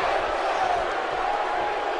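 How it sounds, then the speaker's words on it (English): Arena crowd at a televised wrestling show roaring and cheering steadily throughout, a dense sustained wash of voices with no pauses. "Crowd are loving this."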